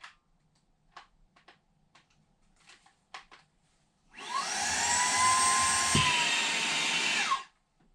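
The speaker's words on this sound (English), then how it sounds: "here's this compact, powerful vacuum" A Fanttik V10 Apex compact cordless vacuum switches on after a few faint clicks, whining steadily and fairly loud for about three seconds with a brief thump partway through, then cuts off.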